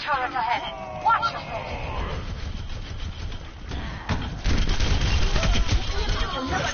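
Rapid bursts of turret gunfire in the Overwatch video game, sustained and loud, with engine-like mechanical drone underneath and game voices speaking over the shooting.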